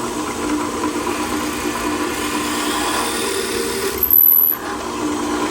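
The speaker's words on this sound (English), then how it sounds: "I'll have to drill a little bit bigger hole just on the top part." Drilling tuner holes in the headstock of a 1942 Martin 0-18 vintage guitar, a steady close whirring grind throughout with a brief sharper burst near the end.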